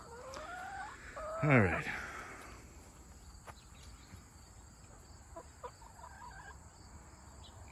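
Backyard chickens, some of which wander out of their fence, let out a loud crowing, clucking burst, followed by softer scattered clucks and calls. A person speaks briefly nearby.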